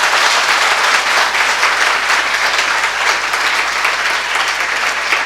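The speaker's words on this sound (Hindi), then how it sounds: "दोनों हाथ खोल के ताली बजाना" A large audience at a religious discourse claps steadily for several seconds, a dense, even wash of applause with no pauses.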